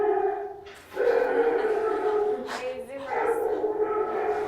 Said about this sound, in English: So that was the dog's reaction